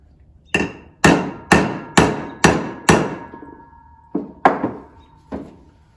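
A headpiece is hammered into the end of a log being readied for a lathe, with six sharp, evenly spaced blows followed by three quicker, softer taps, each ringing briefly.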